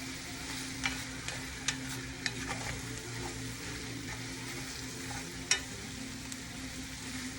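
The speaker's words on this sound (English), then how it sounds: "I'm going to let that sit and simmer for a little bit" Okra and tomatoes cook in a pan with a steady low bubbling sizzle and a few faint clinks of a utensil scattered throughout, nobody talking.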